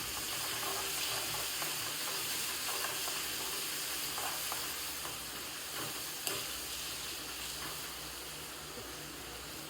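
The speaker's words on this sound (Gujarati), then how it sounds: "હવે આપણે નાખી દીધી આમાં થોડોક નાખી દીધું મરચાં." Roti pieces and chillies fry in a pan, giving a soft continuous sizzle and hiss with faint stirring sounds, steady and fairly quiet at close range.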